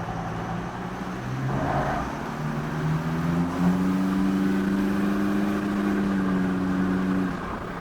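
A new Toyota Fortuner, tuned to cure black smoke and uneven revs, accelerates in drive mode two. The engine note climbs smoothly and holds a rising drone for several seconds over steady road noise.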